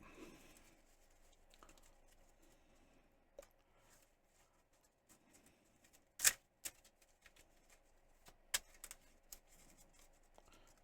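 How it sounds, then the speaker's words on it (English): Playing cards for a Marvel Champions card game are shuffled quietly, with soft riffles and sharp snaps of cards against a table, ending in a few louder slaps amid a quiet room. "cards are shuffled, put in their rightful place"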